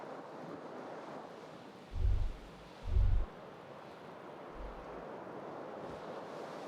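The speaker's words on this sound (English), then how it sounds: "The window stands broken in its frame. Cold wind blows in." Cold wind blows in through a broken window in the Disco Elysium video game, a soft, continuous airy hiss with two dull low thumps near the middle and a fainter one later.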